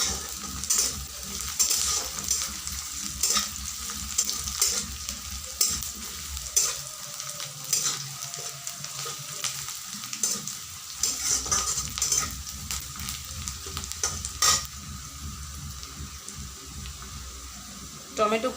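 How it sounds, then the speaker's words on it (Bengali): Chopped tomato and garlic fry in a pan for an egg curry, a close steady sizzle broken by frequent spatula scrapes and stirring clatter, with a brief gap in the low rumble midway. "টমেটো কুচি দিয়ে দিচ্ছি।"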